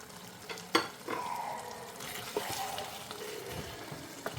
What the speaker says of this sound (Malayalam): ഇനി അതിലേക്ക് നേരത്തെ നമ്മൾ വാട്ടി വെച്ച ക്യാപ്സിക്കം, വല്ലുള്ളിയും റെഡ് ചില്ലിയും ഇട്ട് കൊടുക്കാം.